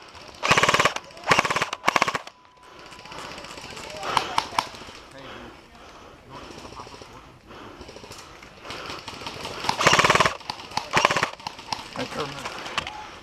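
Airsoft guns fire in rapid bursts during an outdoor game, loud clusters of quick shots at the start and again near the end, with voices of players heard between volleys.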